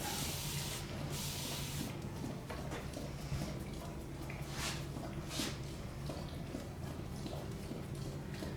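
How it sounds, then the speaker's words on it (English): Spray bottle misting a dog's coat before grooming, several soft hissing sprays in short bursts over a quiet indoor background, faint and close. "Spray her down."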